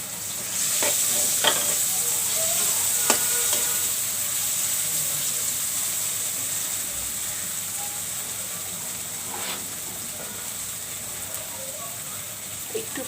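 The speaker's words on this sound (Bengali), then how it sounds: "এখন আমি মাছের কাঁটাগুলো দিয়ে দিচ্ছি" Hilsa fish bones fry in a spice paste in a pan with a steady, close sizzle and hiss, broken by occasional soft stirring scrapes and clinks.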